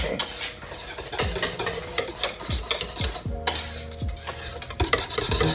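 A whisk beats dairy-free vegan mac and cheese sauce in a pot, making quick, close metallic clinks and rhythmic scraping strokes against the sides, with a soft simmer underneath.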